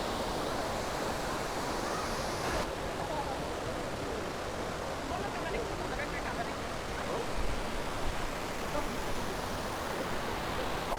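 Duden Waterfall in Antalya, Turkey: a loud, steady rush of falling water filling the whole scene without pause, with a voice faintly audible beneath the roar.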